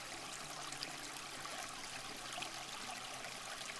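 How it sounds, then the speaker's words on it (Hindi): Water suddenly gushes out of the ground while a well is being dug in an animated farm story, a faint, steady hissing rush throughout with no voices. "एक जगह खुदाई करते समय अचानक पानी फूटकर बाहर आता है"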